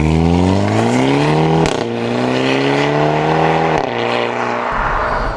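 A 2022 Hyundai i30N hatchback with a dual-clutch gearbox accelerating hard, the engine note climbing in pitch through two quick upshifts with brief dips between gears, loud and close, ending in a rougher lower rumble.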